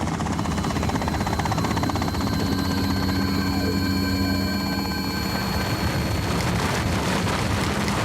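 A cartoon helicopter rumbles and whirs continuously at close range, a steady loud rotor drone with layered tonal hum that holds throughout, with no talking.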